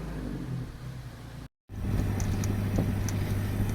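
A Morris classic car engine idles with a low, steady rumble, briefly cut off before resuming and running on.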